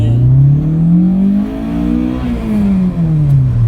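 A Honda Jazz with a swapped Honda K20 Type R engine revs loudly and steadily, its pitch climbing and then falling in long sweeps, close by with no talking.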